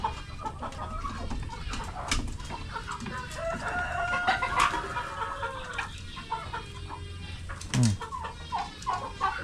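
A large flock of chickens on a homestead clucks busily up close, with a rooster crowing loudly out of the mix and scattered squawks over soft background noise.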